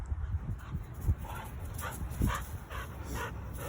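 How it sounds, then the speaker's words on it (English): A playful Rottweiler puppy yips, barks and whimpers in short bursts close to the mic, with faint rustling between calls. "got a pup full of energy that wants to play"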